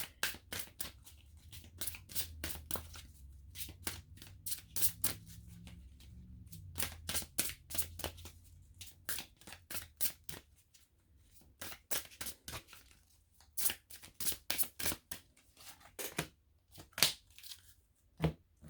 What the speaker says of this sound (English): These cards don't pop as well because they're much too big for me. And as I say that, the card pops out.